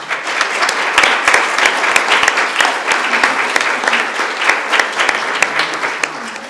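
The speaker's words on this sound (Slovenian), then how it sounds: "Prosim za kratek aplavz tako občini kot ljudski univerzi Ajdovščina." An audience at a Slovenian welcoming ceremony in Ajdovščina breaks into loud, sustained applause, dense clapping from many people filling the room without a pause.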